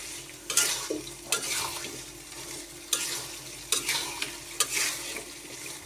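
Potatoes frying in a pan, stirred with a spatula in sharp scraping strokes every second or so over a steady sizzle, close and clear with no talking.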